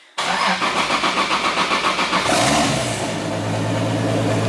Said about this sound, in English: So we'll go ahead and hit our little ignition right here.